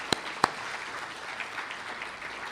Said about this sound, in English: please join me in once again applauding these 4